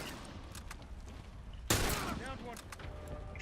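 Gunfire in The Last of Us Factions multiplayer: a sharp loud shot bursts out midway, followed by a ringing tail and scattered quieter shots against background game noise.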